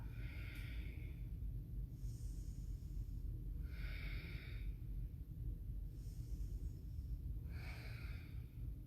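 Slow, audible breaths drawn in and pushed out during a gentle yoga twist, four breathy rushes spaced about two seconds apart over a low background hum.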